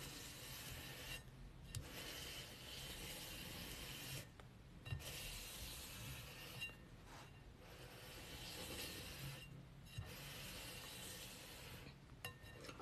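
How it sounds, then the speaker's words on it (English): A cake scraper is drawn around a buttercream-frosted cake in several steady passes, making a soft, continuous rubbing and scraping sound close up, with brief pauses between sweeps and no voices. "And now we're gonna scrape again."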